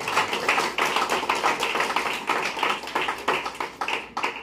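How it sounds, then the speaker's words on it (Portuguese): A church congregation claps for Jesus, a dense, continuous round of hand clapping close by with no voices over it. "dê uma salva de palmas para Jesus"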